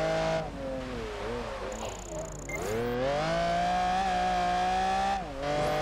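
A race car engine in Project Gotham Racing 4 drones loudly and continuously, its pitch sliding down as the car slows, then climbing again under hard acceleration with a brief dip near the end; a faint tire squeal shows up mid-way.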